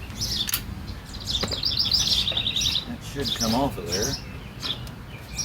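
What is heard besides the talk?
birds chirping outdoors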